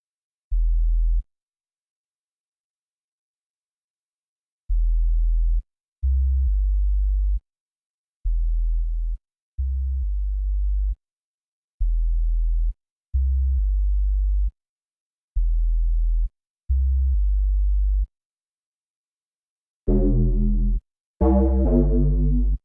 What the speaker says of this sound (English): We can compress the sine wave sub, so it's a little bit more consistent.